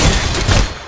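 A short, loud burst of rapid automatic gunfire from the video game Farlight 84, dense overlapping shots filling under a second with no talk.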